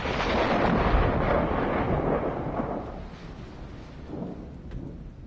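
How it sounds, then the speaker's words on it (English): A deep, rolling rumble of thunder swells loudly and slowly fades, with a second softer roll near the end. "The sound of thunder may indicate divine intervention or anger."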